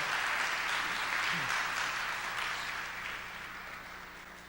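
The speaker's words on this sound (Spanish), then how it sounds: "Un aplauso al Señor." A church congregation applauds during a sermon service, a dense wash of clapping that starts loud and gradually fades over a few seconds.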